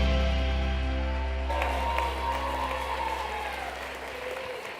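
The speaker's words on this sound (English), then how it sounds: "come on, we can clap a little more for the Courage Project and Bree Moore." Audience applause at an evening winter speaker series event, rising after a steady tonal hum and continuing as a broad, even wash of clapping with faint voices mixed in.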